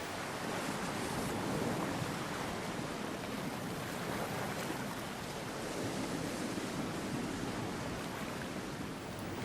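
Ocean waves wash and roar in a continuous broad surge, loud and close, with a steady rushing texture and no voices throughout.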